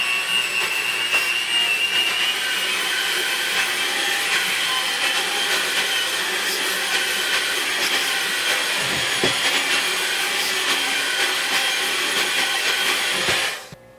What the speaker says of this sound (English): this recipe calls for whisking them, so I'm using the whisking attachment